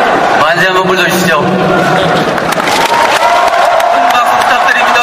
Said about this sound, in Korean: 만세 한번 불러주시죠